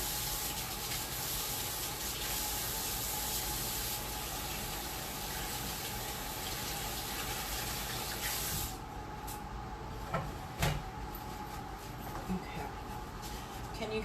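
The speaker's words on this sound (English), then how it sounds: "let me wash my hands real quick." Tap water runs steadily into a kitchen sink while hands are washed during keto zucchini and chicken fritter prep, a close hiss that stops partway through, followed by faint clatter and quiet room noise.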